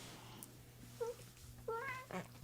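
A cat meows twice in quick succession, short rising calls heard close and fairly faint against a quiet indoor background with a low steady hum.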